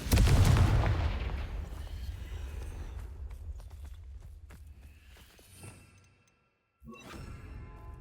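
Confringo spell cast in Hogwarts Legacy, a loud fiery blast that bursts at once and then rolls and rumbles as it fades over several seconds, with a sharp crack of another impact near the end.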